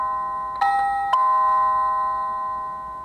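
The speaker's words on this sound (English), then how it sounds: "So you can hear the first chime," SECRUI wireless doorbell chime playing a traditional ding-dong, two clear bell tones a half second apart ringing out and slowly decaying, loud and alone with no talking.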